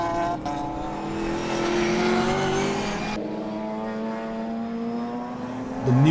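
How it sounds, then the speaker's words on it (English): Nissan 200SX race cars chase a V8 Holden Commodore in an over-2-litre Improved Production circuit race; loud, sustained engine roar with rising and falling revs, several cars close together. "We've got the two 200SXs attacking the V8 now"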